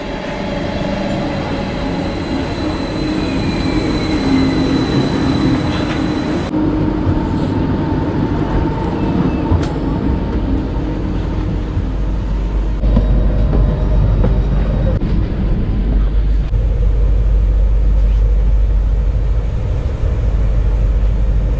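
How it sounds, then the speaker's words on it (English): A train rumbles into a small-town station in Bückeburg, Germany, rolling past close by with rail clatter, faint squeals and a steady low roar that deepens toward the end. "The train is coming."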